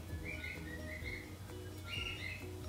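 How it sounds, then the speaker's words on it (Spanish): Birds chirp outdoors with repeated short tweets rising over a steady low hum and background noise; the calls come in small clusters, moderately close, with no speech. "Y disculpen si oyen el escándalo de los pájaros"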